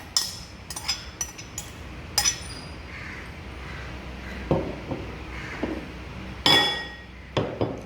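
Chickpea and microgreens salad with carrot being mixed in a bowl: scattered clinks and knocks of a utensil against the bowl, a few sharp ones standing out over soft background noise, no talk.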